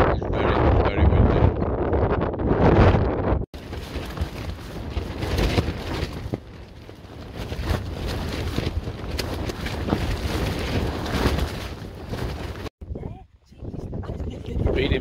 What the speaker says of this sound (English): It is really windy up here at the minute.